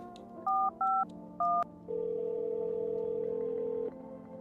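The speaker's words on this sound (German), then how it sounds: "Ich will mal Femur anrufen." In the video game No, I'm Not a Human, a telephone number is dialed as three short, bright DTMF tone pairs, followed by a long, steady ringing tone held for about two seconds before it stops.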